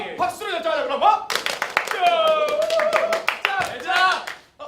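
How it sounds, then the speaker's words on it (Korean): A group on a theatre stage claps in short bursts to vote by applause, the claps mixed in with lively talk from several actors. "박수로 결정하자"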